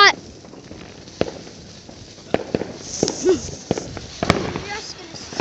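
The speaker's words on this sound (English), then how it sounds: "we've got a giant firework in the background" Fireworks go off outdoors as a series of sharp, distant cracks and pops at irregular intervals, with people talking faintly in between.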